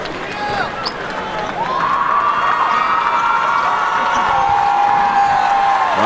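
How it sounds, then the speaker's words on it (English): A crowd at a basketball game gives player Ryan Anderson a round of applause, cheers and claps rising at about two seconds into a sustained, loud wash of noise with a steady tone running through it. "Ryan Anderson gets a nice applause, a nice round of applause"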